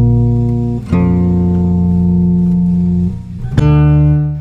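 Layered guitar tone with pitched-up and pitched-down copies stacked into a thick chord, sustained steadily with brief breaks near one and three and a half seconds, loud and alone.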